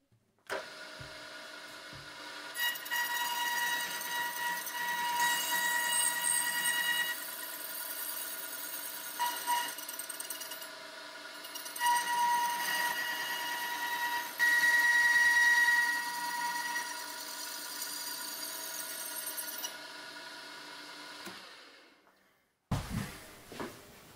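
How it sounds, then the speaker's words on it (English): A carbide saw blade spinning at 560 RPM cuts metal without lubrication, giving a sustained whining, buzzing drone with steady harmonics, broken by a few short pauses before it stops abruptly near the end. "This being a carbide saw blade, I can run it quite fast, 560 RPM, no need for lubrication."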